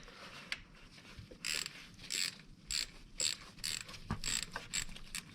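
Ratchet wrench snugging 3/8-inch water pump bolts on a 2002 Pontiac Bonneville engine, giving a series of short, close clicking bursts in an uneven rhythm against a quiet garage background.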